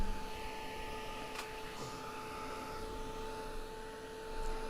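A hair dryer blows over wet acrylic paint with a faint, steady whine and hum that holds even throughout, with no voices.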